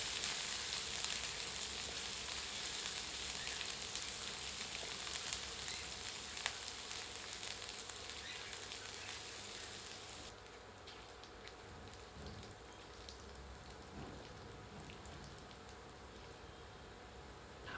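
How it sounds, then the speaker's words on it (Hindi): Finely chopped ginger and garlic frying on low heat, a soft, steady sizzle that continues without pause and grows slightly duller partway through, with no voices. "अब बारीक कटे हुए अदरक और लहसुन सम्मिलित कर इन्हें धीमी आंच पर भूनते हैं जब तक कि यह सुनहरे नहीं हो जाते।"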